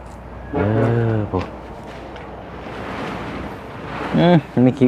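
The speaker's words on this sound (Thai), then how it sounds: "มีแต่น้ำไหลแท้นี่" Water flows steadily through a newly laid pipe at a bathroom construction site after rain, a soft continuous rush heard between and under a man's speech.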